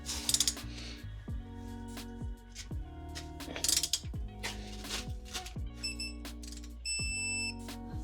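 A breaker bar and wrench tighten a rear shock bolt on a Mercedes E-Class W212 with Airmatic suspension, giving a series of fairly quiet ratcheting clicks and metallic ticks in short strokes, with a few high electronic beeps near the end.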